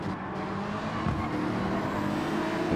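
Race car engine drone from a McLaren in Gran Turismo 7, a steady loud whir of a car passing by at close range with no talk over it.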